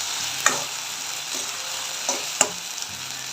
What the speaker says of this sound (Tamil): வெங்காயம், தக்காளி, இஞ்சி பூண்டு நல்லா வதக்கிடுவோம்.